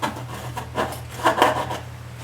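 A hand file rasps on a part during restoration work on a Philco 84 radio, giving several short, soft, scraping strokes in an uneven rhythm over a low hum, with no talking.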